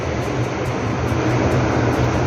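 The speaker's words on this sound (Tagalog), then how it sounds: "makikita natin yung airplane" Philippine Airlines airplane taking off, a loud, steady broadband engine roar with a low rumble, continuous and unbroken through the short stretch, with no talk.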